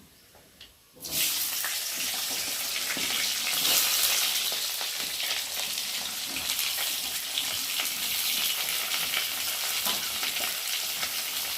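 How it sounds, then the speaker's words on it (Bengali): Black cumin seeds frying in hot oil, starting with a sudden loud sizzle that settles into a steady, close crackling hiss. "কালো জিরেটা ভাজা ভাজা হয়ে যাচ্ছে"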